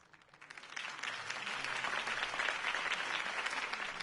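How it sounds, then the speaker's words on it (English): Applause from a large crowd in the video game Batman: The Telltale Series swells up quickly and holds steady, a dense wash of clapping heard at a distance. "If only Mr. Wayne, my campaign's largest backer, could have heard that applause"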